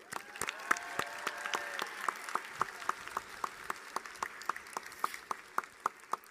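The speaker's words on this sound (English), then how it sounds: "Everyone join me in a round of applause for Linda Choi." Applause at an East LA College commencement ceremony, thinning into a few sharp, evenly spaced claps close by, with a faint voice or tone early on.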